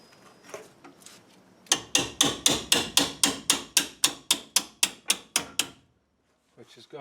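Metal wrench hammered against the brake on a 2004 GMC Sierra 1500 pickup, a run of about fourteen sharp, evenly spaced metallic taps, loud and close, with brief speech before it.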